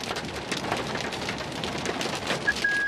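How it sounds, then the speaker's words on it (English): Large hail and rain pelting a car during a storm near McCook, Nebraska, a dense continuous patter of hard impacts on the vehicle with occasional louder hits and a brief high tone near the end. "Grigsby, just FYI, random large hail coming down just east of the Casey's."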